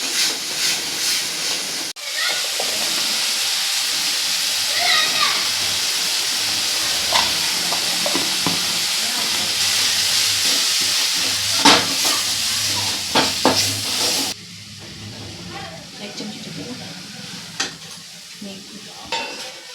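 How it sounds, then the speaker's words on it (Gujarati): Onion, tomato and ginger-chili-garlic paste hit hot oil as a tempering for pakoda filling, giving a loud continuous sizzle and hiss with occasional stirring clinks, dropping to a quieter fry near the end. "ડુંગળી, ટમેટું, આદુ મરચું લસણની પેસ્ટ નાખી અને વઘાર મારી દીધો છે"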